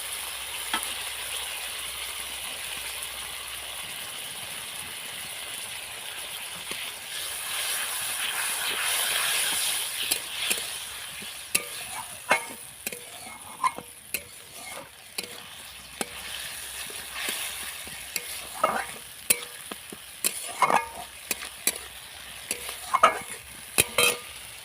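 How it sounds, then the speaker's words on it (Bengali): Spices and ginger-garlic water sizzle and hiss in a pan for a Bengali soybean and potato curry, while a spoon stirs with frequent scraping clicks that grow more rapid toward the end. No one speaks. "এর মধ্যে দিয়ে দিচ্ছি আদা আর রসুন বাটার যে জলটা ছিল সেই জলটা দিয়ে ভালো করে কষবো।"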